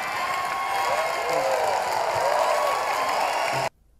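An audience at a live tribute concert for an entertainer claps and shouts in steady applause with cheering, a sustained wash of crowd noise that cuts off abruptly near the end.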